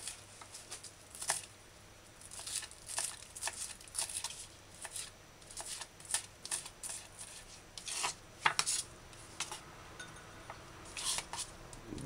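A knife finely dicing scallion on a cutting board, quiet irregular bursts of crisp chopping taps and scrapes, close and faint, without talk.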